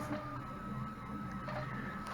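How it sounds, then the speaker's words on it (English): A 3D printer's Z-axis stepper motor driving four lead screws hums and whirs steadily, a quiet continuous mechanical drone with a faint tonal whine and no talk. "The Z axis is controlled by this stepper motor and 4 lead screws."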